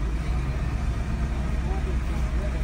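Toyota Vios 1.3 XLE CVT from 2024 idling at a gas station, giving a steady low engine hum that runs the whole time under nearby talk.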